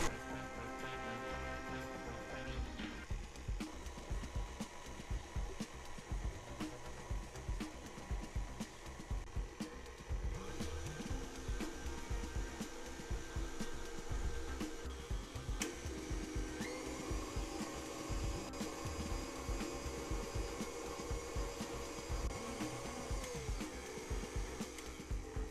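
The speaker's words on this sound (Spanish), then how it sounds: "voy a comenzar a batir para que estos ingredientes se integren. Primero siempre a velocidad bajita" Electric mixer running at low speed through white and brown sugar for chocolate chip cookies, a steady whirring motor drone throughout with a rattling texture and shifting pitch partway through, close and continuous.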